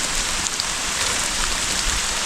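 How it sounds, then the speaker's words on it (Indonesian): Steady rain falls on a hiking trail on Mount Tampomas near the third rest post, a dense, even hiss close and constant throughout with no voices. "Rasa guys, hujan"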